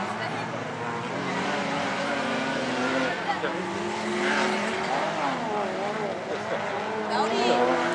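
An Audi V8 race car at an autocross track gives a distant, continuous engine drone with shifting revs, and a commentator talks over it.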